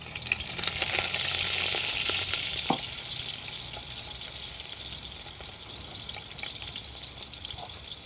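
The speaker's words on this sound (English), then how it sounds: "you want a nice hot pot, okay, and you want to put in like about 4 cloves of crushed garlic." Four cloves of crushed garlic fry in hot olive oil in a pot for a chicken and aloo curry, giving a steady close sizzle that flares loudest early and settles into a softer crackle.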